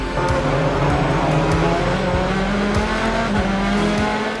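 BTCC touring cars roar away from the start grid at a championship-deciding race, a loud dense wall of engines with rising revs and several cars sweeping close by in quick succession.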